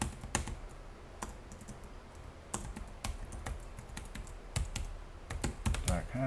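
Typing on a computer keyboard while entering a name into a form field, with close, irregular bursts of key clicks separated by short pauses.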